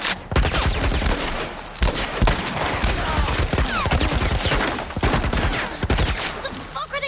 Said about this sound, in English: What the fuck are they shooting at us with? Some kind of military turret.